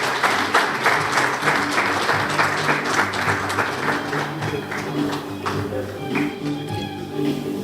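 Applause from an awards ceremony audience as the winners are welcomed onto the stage, dense steady clapping sustained for several seconds and gradually thinning toward the end.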